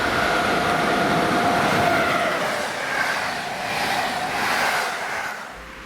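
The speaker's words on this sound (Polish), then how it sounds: "Mija się z klasyczną EP07 z pociągiem Intercity do Zielonej Góry" An EP07 electric locomotive hauling an Intercity passenger train to Zielona Góra rolls past near Poznań Junikowo, a loud continuous rumble and rail roar that swells and fades slightly, with no voices.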